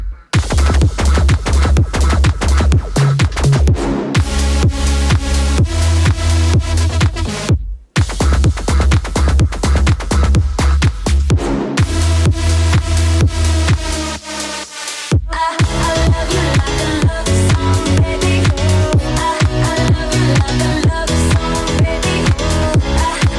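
Full house music drop from a remix of a song, loud and dense with a pumping kick, bass and chopped synths, broken by two brief gaps, and no talking.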